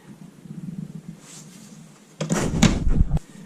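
Drawers in the kitchen of a 2019 Coachmen Chaparral 392MBL fifth-wheel RV opening and closing, a short cluster of close, loud sliding clunks and knocks after a quiet stretch of room tone.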